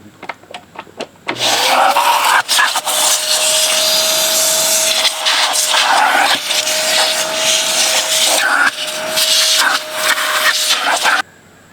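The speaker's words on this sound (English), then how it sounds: "So I'm just going to run a vacuum and clean out the rest of it." A vacuum cleaner switches on after a moment of quiet and runs loud and close, its whine shifting and scraping as it sucks debris out of a Corvette C4 seat during a lumbar bladder repair, then cuts off.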